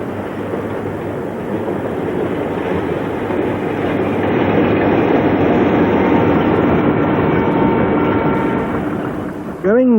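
A passenger train runs north from Cape Town toward Pretoria, South Africa, giving a steady, loud rumble of rolling wheels and carriage noise that holds throughout, with a brief voice near the end.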